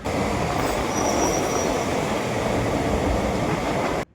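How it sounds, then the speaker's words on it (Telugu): MEMU passenger train at Basin Bridge Junction station near Chennai, a loud steady rumble of wheels and carriages with a thin high squeal, cutting off abruptly at the end. "బేసన్ బీచ్ జంక్షన్ నుంచి ఈరోజు ఒక మేము ఎక్స్ప్రెస్లో లోకల్ జర్నీ అయితే చూడబోతా ఉన్నాం"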